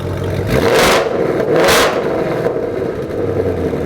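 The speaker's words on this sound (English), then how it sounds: "Give it a rev." A car engine with a race exhaust and resonator delete revs hard twice in quick succession, each loud, raspy exhaust roar rising and falling before settling back to a rumbling idle.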